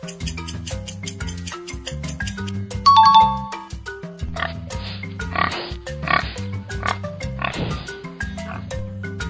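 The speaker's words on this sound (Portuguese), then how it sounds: "é o som do porco" A pig grunts and oinks in several short, rough bursts, interleaved with bright chime-like tones in a children's animal-sound quiz.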